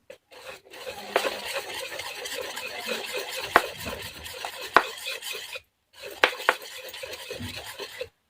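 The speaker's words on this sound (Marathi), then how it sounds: "आता छान असं मिक्स करून घ्यायचं" Rice idli batter being mixed with salt in a metal pot, with repeated scraping and stirring strokes, clinks of the utensil against the pot and a brief pause before the stirring resumes, close and clear.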